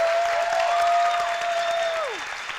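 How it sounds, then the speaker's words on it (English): A crowd applauds at a teen town hall in Las Vegas, sustained dense clapping that fades slightly toward the end, with a steady electronic tone underneath. "let's give them a round of applause."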